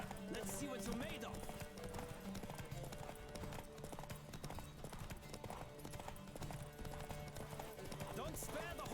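Roach, a horse in The Witcher 3, gallops during a race, with rapid rhythmic hoofbeats running steadily throughout and occasional whinnies, set against game ambience and bursts of voice.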